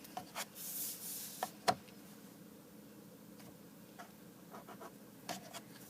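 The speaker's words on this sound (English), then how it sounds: "align my ruler up with those marks, and draw them in." A pencil draws straight lines along a ruler on paper for a one-point perspective exercise, giving soft scratchy strokes, a few sharper ticks near the start and again late, quiet and close with no talking.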